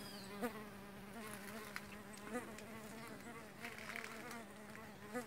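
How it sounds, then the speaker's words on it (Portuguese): Bees buzz around blooming Coryanthes orchid flowers, a steady, continuous droning hum from several insects nearby, rising and falling slightly as they fly close past. "e já está cheia de abelha"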